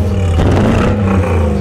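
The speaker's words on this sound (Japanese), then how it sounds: "軽くマフラー音聞きたいので。" Nissan President 4.5-litre V8 with a misfiring cylinder, its exhaust muffler giving a light rev: a loud, steady low rumble that swells briefly mid-way, close by, with no talking.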